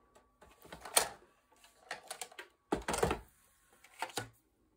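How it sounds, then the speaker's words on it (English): Scissors snipping through a paper gift box along a scored line, a handful of quiet, crisp cuts in short irregular bursts with brief pauses between them, heard close and alone. "Okay, now come in with your scissors again."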